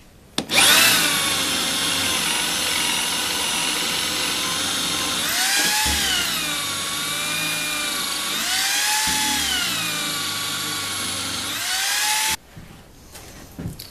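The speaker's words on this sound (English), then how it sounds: "head over to the drill press to get these drilled" A drill press runs continuously while it bores holes in scrap wood. Its loud, whining motor pitch rises and dips several times as the bit bites into and eases out of the wood, then the machine cuts off abruptly near the end.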